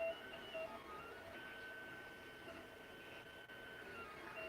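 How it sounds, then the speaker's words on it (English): A 3D printer runs continuously through its motions while the filament sits stalled and cooking in the extruder, giving a steady, fairly faint mechanical whir with stepper-motor tones and no voices. "the printer will go through all its motions as if it was still printing"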